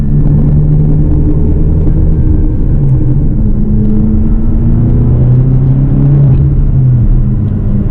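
Manual BMW M6 Competition Coupe driven along a winding, curvy road, heard from inside as a continuous low engine rumble and road drone with gentle shifts in pitch, steady and unbroken, with no talking.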